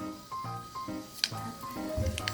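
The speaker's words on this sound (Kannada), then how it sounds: "ಸಾಸಿವೆ ಚಟಪಟ ಅನ್ನಬೇಕು" Mustard seeds splutter in hot oil for a North Karnataka tempering, giving soft irregular crackles and sizzling pops at a close, low level with no talk.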